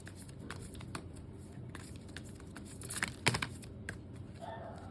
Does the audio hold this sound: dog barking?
no